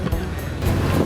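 A tour boat cruises a canal in Bruges, Belgium, giving a brief, steady low engine rumble mixed with wind and the wash of water against the hull.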